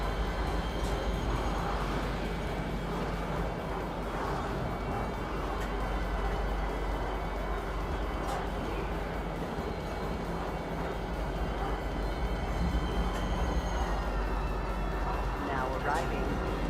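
A train runs in the video game Star Citizen, arriving at Tisa Spaceport with a steady rumbling rail drone under a spoken announcement and occasional faint clicks.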